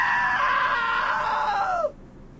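A man's long, loud scream in the video game What Remains of Edith Finch, a single strained cry that falls in pitch and cuts off abruptly, heard up close with no talk over it.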